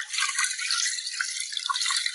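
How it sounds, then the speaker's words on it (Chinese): Gluten dough is washed by hand in a bowl of water, giving a busy close-up sloshing and squelching with small splashes and drips throughout. "面筋最后再洗一遍"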